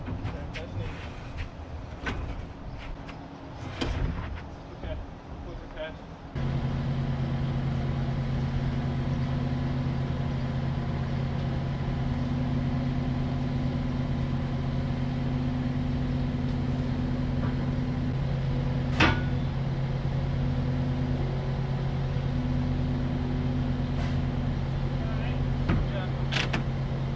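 A forklift fitted with borrowed fork extensions carries a large door, its engine holding a steady, loud drone once it starts moving partway through. Irregular clunks and rattles come before and over the hum, and someone talks briefly nearby.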